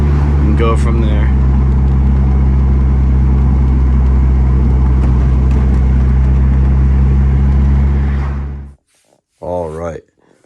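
An AWD Spyder drives with freshly replaced end clutches, its engine a loud, steady, close drone that runs for about eight seconds, then cuts off abruptly before someone speaks briefly.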